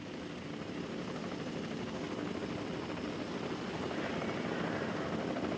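Helicopters in the park-building game Jurassic World Evolution 2 hold a steady rotor thrum for several seconds, a continuous low chopping drone at moderate volume with no speech over it.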